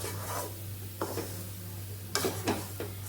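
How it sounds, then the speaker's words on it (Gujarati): Leftover roti pieces being turned in a pan over a low flame until crisp, heard as soft scraping and stirring strokes with a few sharper scrapes over a steady low hum. "ફેરવતા ફેરવતા બધી સાઈડથી આપણે રોટલીને એકદમ મસ્ત એવા કડકડિયા તૈયાર કરી લેવાના છે"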